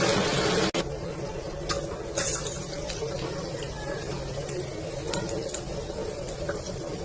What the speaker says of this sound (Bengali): এইভাবে এক এক করে সব বড়াগুলো তেলের মধ্যে ছেড়ে দিচ্ছি।